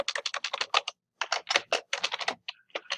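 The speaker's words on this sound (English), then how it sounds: "So we're going to type for each my cell in range" Code is typed on a computer keyboard in quick bursts of crisp, close key clicks, with a brief pause between runs and no voices.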